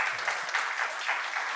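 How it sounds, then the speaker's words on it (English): Audience applause closing a talk about Go memory leaks at the ContainerDays Hamburg conference: steady, dense clapping from a crowd filling the hall, even in level throughout with no talking. "final round of applause for Alex."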